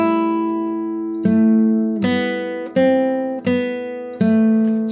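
Fingerstyle acoustic guitar picks out the opening phrase of the Scarborough Fair melody over a picked accompaniment. About five clear plucked notes ring out in a slow, steady rhythm, close and alone, with no talking.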